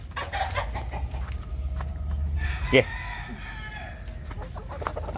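Backyard laying hens cluck close by with short rhythmic calls, and one sharp loud squawk midway, over a steady low background hum.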